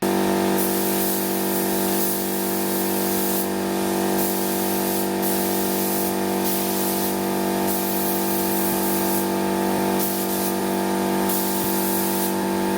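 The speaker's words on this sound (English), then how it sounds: "get it into the gun, and then spray it onto the car" A spray gun hisses steadily and loudly for the whole stretch, spraying epoxy primer onto a Toyota Starlet's bodywork, a continuous close airy spray with slight surges.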